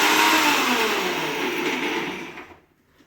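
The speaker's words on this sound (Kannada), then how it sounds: "ಮಿಕ್ಸಿ ಹಾಕಿ ಕಲ್ತ್ಕೊಂತಿದ್ಯಾ?" A kitchen mixer grinder powdering roasted spices, a loud whirring motor drone that holds for about two seconds, then winds down and cuts off near the end.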